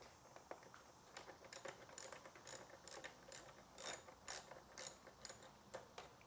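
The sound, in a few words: ratchet with 10mm socket removing motorcycle exhaust servo bolts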